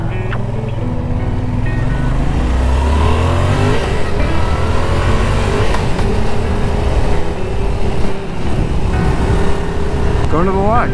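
A Yamaha XSR700 motorcycle revs and pulls away from a gas station on a cold fall day, its engine note loud and close, rising through the gears over steady road roar.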